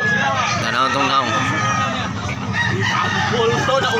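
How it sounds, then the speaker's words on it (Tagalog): Several gamecocks at a market crow over and over, overlapping one another with clucking and a busy crowd murmur underneath. The sound is loud and close throughout. "Ang manok, gandang manok."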